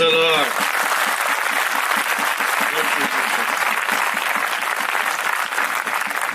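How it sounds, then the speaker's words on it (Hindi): A seated crowd, with the men applauding in honour of the mothers, gives a loud and steady wash of clapping that holds at an even level throughout. A brief voice is heard right at the start. "जितने पुरुष बैठे हो माता जी लोगों के लिए ताली"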